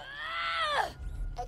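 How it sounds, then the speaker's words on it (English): A creature in the Borderlands 2 video game lets out a shrill, wavering scream that rises and falls before cutting off, followed by a low rumble and a brief cry. "It's got a pretty cool scream."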